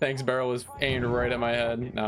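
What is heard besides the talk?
No everyday noise stands out behind the speech.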